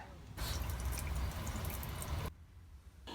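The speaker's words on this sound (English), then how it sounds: "Now it's time to drain the water." Water gushes and splashes steadily for a couple of seconds as a washing tub drains through a hose into a sink in an RV, then cuts off abruptly, leaving quiet room noise.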